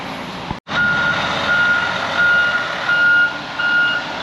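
A concrete truck reversing at a foundation pour gives a loud, steady series of evenly spaced backup beeps over its low engine rumble. A sharp thump near the start is followed by a brief dropout.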